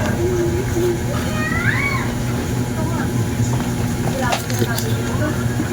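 A cat gives several short rising meows over a constant low mechanical hum, with faint talking and clatter in the background.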